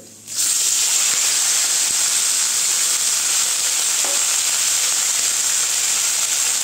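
Chopped papaya hits hot oil with reddened ginger in a pan, setting off a loud, steady sizzle with a bright hiss that holds unbroken throughout, no voices over it.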